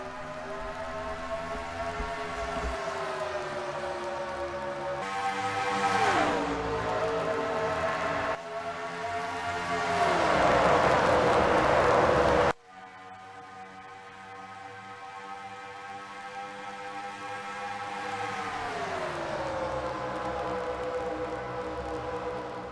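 Loud, continuous roar of NASCAR stock cars racing at Kentucky, engine drone rising and falling as the pack passes, with abrupt shifts in tone and level throughout.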